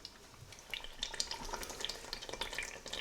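A yogurt paste cooks in oil for chicken qorma, crackling and spitting in close, uneven pops over a soft, continuous frying hiss, with no voices.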